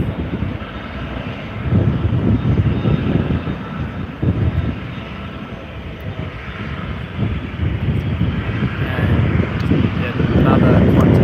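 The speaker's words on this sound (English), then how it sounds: "Here's the AirAsia X A330. Off up to Kuala Lumpur in Malaysia, I believe." An AirAsia X Airbus A330 jet departing Sydney for Kuala Lumpur makes a loud, continuous engine roar with wind buffeting the microphone. A person talks over the sustained noise.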